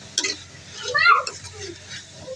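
Boiled black chickpeas being fried and stirred in a pan give a short burst of clattering sizzle and scraping, moderately close, fading after a couple of seconds.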